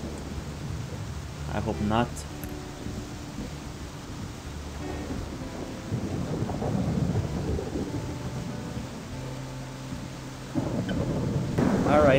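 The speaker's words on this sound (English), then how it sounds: "Oh, it's raining a lot." Rain and rolling thunder in the wolf game WolfQuest 3, a steady wash of downpour with deep rumbles swelling and fading, while a person talks briefly over it.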